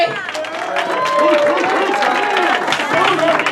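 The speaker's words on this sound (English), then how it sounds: "Get a round of applause for Bang Bang, The Movement." Audience applause and cheering for the performer Bang Bang, The Movement at a talent competition, a dense crowd roar with clapping and whoops sustained at steady loudness, with voices shouting over it.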